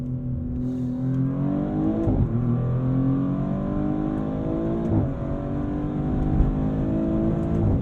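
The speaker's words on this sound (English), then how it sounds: "And the engine note is not bad either." Engine of a Maserati GranTurismo Trofeo heard from inside while driving, a steady strong drone rising in pitch through the gears with brief shift dips, loud and continuous with no talk.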